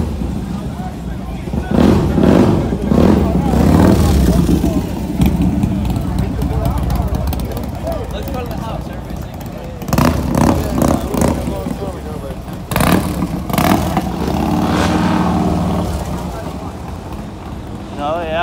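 Motorcycles idling and revving at a street bike night in Sacramento, California, with a steady engine rumble and several louder throttle blips under loud, close talking throughout.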